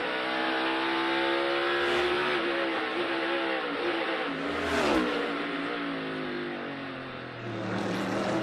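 A NASCAR race car on a timed qualifying lap at the 2022 Toyota / Save Mart 350 road course, its engine rising and falling through shifts as it passes nearby, with a loud swell around the midpoint and another car fading in at the end.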